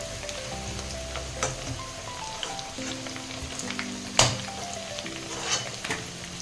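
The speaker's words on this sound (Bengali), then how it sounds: "আমি সব আলুগুলো এভাবে ভেজে নেব।" Steady crackling sizzle of potatoes frying in oil, with a few sharper clinks and scrapes of a utensil now and then.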